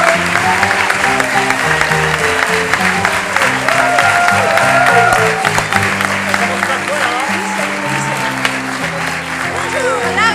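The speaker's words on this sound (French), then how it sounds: "je vais te demander de faire un tonnerre d'applaudissements pour les joueurs qui sont en coulisses" Loud, sustained audience applause at an improv theatre show in Paris, steady for about ten seconds with crowd noise and voices mixed through it, welcoming the players onto the stage.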